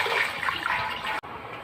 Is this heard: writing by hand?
no